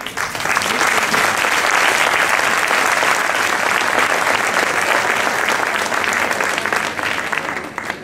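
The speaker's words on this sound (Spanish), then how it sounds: "Por favor, un fuerte aplauso para él." Loud, dense crowd applause at a flamenco singing festival, a continuous roar of many hands that holds steady for eight seconds before easing slightly at the end.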